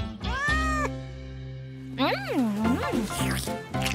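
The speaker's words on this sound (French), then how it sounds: "Oh, au final, il y avait quand même un chat." A cat meows clearly in a few drawn-out, pitch-bending calls, close and moderately loud, with short pauses between cries and no talk over them.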